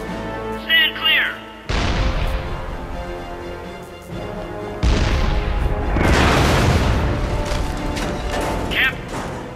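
Heavy booming cannon fire and explosions from the Captain America: Super Soldier video game land in two big blasts with long rumbling tails, over a tense musical score and brief spoken game dialogue.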